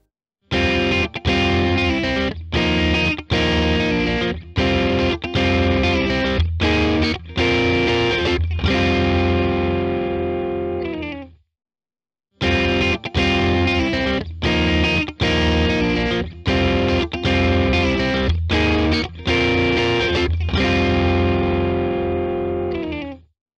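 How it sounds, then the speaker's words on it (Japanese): An electric guitar runs through an AI-modeled overdrive, an OS2-style pedal, playing loud distorted chords and riffs in two phrases split by a short pause, with sharp picked attacks and ringing sustain and no talking. "まずオーバードライブで試したのがこちら"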